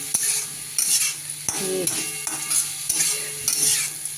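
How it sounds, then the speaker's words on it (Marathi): Vegetable fried rice stir-fried in an old iron kadhai, an even close sizzle punctuated by quick metallic scrapes and taps of the spatula against the pan every half second or so. "हे आपण तर परतून घ्यायचे सगळं"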